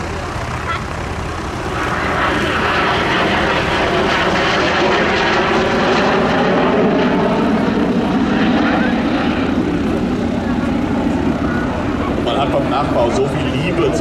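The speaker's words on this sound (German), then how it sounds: "Zwei moderne Jet-Triebwerke, leichte, kleine Jet-Triebwerke, die zum Beispiel auch in einem Learjet zum Einsatz kommen." A Messerschmitt Me 262 replica powered by two small modern General Electric jet engines flies past, a sustained loud engine roar that builds and holds, with someone speaking over it.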